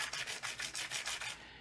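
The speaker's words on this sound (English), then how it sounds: "So I just use a piece of 150 grit sandpaper, and I just put it on the table and I just scuff it up like this." A brass pen tube is scuffed by hand on 150 grit sandpaper laid flat on a table, producing quick rhythmic rasping strokes, close and faint, about eight in succession.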